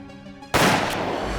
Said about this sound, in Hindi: दया, दया, तुमने गोली चलाई?